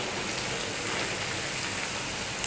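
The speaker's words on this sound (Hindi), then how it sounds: "इसको सिर्फ फ्राई करना है, लाल करना है इसको, क्रिस्पी क्रिस्पी सा।" Beef boti pieces sizzle crisp in hot oil over a high flame, a steady dense hiss and crackle like rain, close and continuous without pause.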